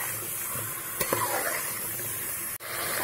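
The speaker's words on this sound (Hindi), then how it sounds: "सारे चिकन के पीसेस इसमें डाल देंगे। थोड़ा सा इसे ऐसे चम्मच से चला लेंगे।" Chicken pieces for a shahi chicken korma stirred with a spoon in a hot pan, giving a steady close sizzle with a few faint spoon scrapes and taps, and no talking.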